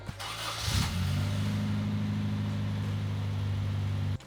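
Toyota KE70 Corolla engine starting from a barn find: a short cranking burst, then the engine catches and settles into a steady, loud, close idle hum that cuts off abruptly.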